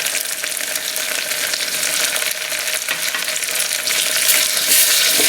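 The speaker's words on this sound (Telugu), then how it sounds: "అల్లం వెల్లుల్లి పేస్ట్ బాగా ఇందులో వేగేటట్టుగా కలుపుకోవాలి." Ginger garlic paste sizzles and fries in hot oil with green chilli pieces and curry leaves, a steady dense crackle with stirring that holds throughout, close and fairly loud, no voices.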